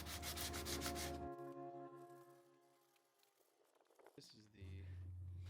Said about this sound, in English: I'm just using some sandpaper to smooth out the entire cut line and remove any loose pieces of plastic